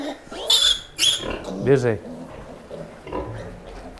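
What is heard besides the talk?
sows and piglets grunting in barn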